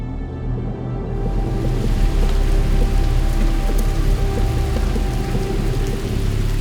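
Heavy monsoon rain pours steadily through Bandhavgarh forest in India, a dense, loud hiss of drops on leaves and ground, with deep rolling thunder rumbling beneath it and no voices.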